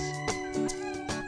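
A cat on a farm in Koltim, playing alongside a dog, gives several short, close meows in quick succession, with faint background noise between the calls.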